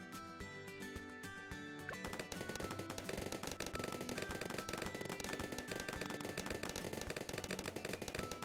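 Full-auto rifle fire in a video game, a long, dense, rapid stream of loud shots that starts after a brief quieter musical stretch and continues steadily to the end.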